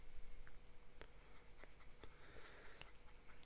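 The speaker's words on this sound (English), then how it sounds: "So we'll do another ink swatch here." Pelikan M1000 Raden Sunlight fountain pen nib scratching across paper while laying down an ink swatch, a series of faint, close, soft strokes and taps under a quiet background.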